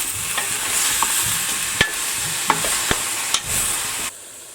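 Ingredients browning in a frying pan for white beans crackle and sizzle loudly up close, with several crisp utensil taps and scrapes before the sound cuts off abruptly near the end.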